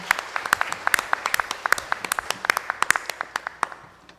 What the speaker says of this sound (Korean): 우리 하나님께 영광의 감사의 박수를 돌려드리겠습니다.